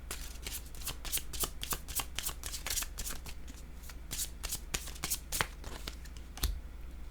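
Tarot cards being shuffled by hand, a fast run of crisp riffling flicks, close but fairly soft against a low steady hum.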